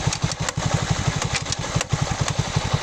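A Delta moped engine with a rusted chain runs at a steady idle, loud and close, its rapid even putter alone with faint mechanical clatter on top.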